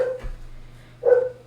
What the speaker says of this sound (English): I'm sorry my dog's barking in the background.